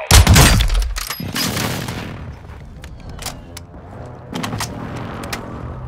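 An airstrike hits its target in a video game: a loud, close blast bursts at the start, then gives way to crackling debris and scattered sharp pops that fade into a rumbling background.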